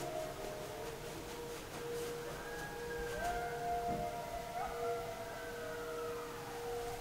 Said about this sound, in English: These little fire departments have sirens.